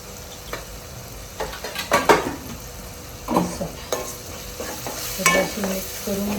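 Garam masala, chicken masala and turmeric stirred in a hot frying pan, a spoon scraping and clanking against the pan in uneven bursts over a steady low sizzle.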